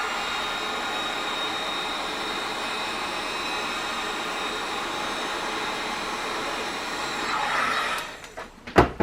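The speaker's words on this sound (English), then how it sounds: "we're going to take the heat gun and we're just going to make the top a little bit tacky" A heat gun blows steadily on the top of melt-and-pour soap, a close, even rushing hiss that holds for most of the clip before cutting off into a few brief knocks.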